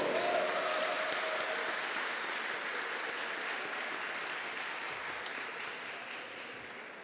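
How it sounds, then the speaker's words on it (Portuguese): Sustained audience applause fills a formal solemn ceremony session in Rio de Janeiro, steady and dense throughout, gradually tapering slightly toward the end, with no speech over it. "Convido para os nossos aplausos, Bloco das Garizetes e Brasil de Fato"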